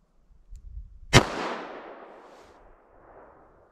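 A single sharp, loud gunshot from a 3-inch .38 Special revolver firing a 130-grain standard-pressure round, with a reverberant tail fading over a few seconds, no talking.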